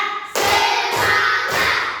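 Children in a classroom clap their hands together in a counted rhythm, a few loud, sharp bursts of clapping in quick succession with chatter mixed in.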